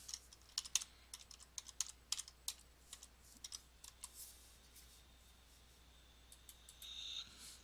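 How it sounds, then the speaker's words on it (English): A computer keyboard clicks in short, irregular bursts of typing, close and fairly faint, tapering off into quiet near the end. "and then I could type"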